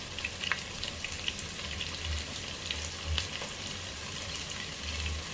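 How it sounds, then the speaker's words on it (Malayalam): Garlic, ginger and green chilli sauté with softened onion for a Kerala-style chicken curry, giving a soft, steady sizzle with occasional light stirring clicks and no talking. "ഇതിലേക്ക് നമുക്ക് വെളുത്തുള്ളി, ഇഞ്ചി, പച്ചമുളക് എന്നിവ ഇട്ട് ഒന്ന് പൊടിക്കുകയാണ്"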